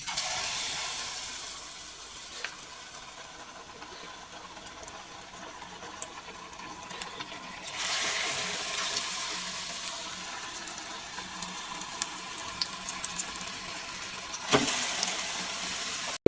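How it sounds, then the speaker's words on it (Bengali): Potato chops (aloo chop) frying in hot oil for an iftar spread, a steady broad hiss of sizzling with a louder surge midway and a brief clatter near the end, no talking. "এখন আমরা আলুর চপগুলো ভেজে নেব।"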